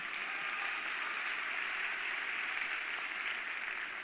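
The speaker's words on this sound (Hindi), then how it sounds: "तालियां बजा सकते हैं कोई।" A crowd at a Delhi success-day business event for Forever Living Products fills the air with steady, dense applause that holds at an even level from start to finish, with no voices over it.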